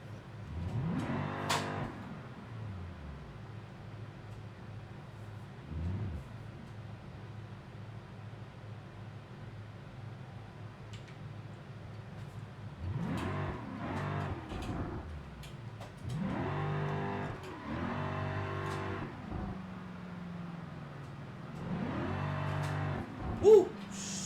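A supercharged car pulls away and accelerates in several revving bursts, the engine note rising and falling at moderate distance over steady road rumble, with a louder burst near the end.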